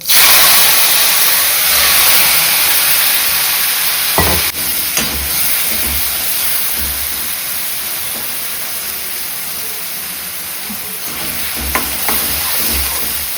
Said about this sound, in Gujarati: હવે ડાયરેક્ટ ભાઈ હું આ ટમેટા નાખી દઉં છું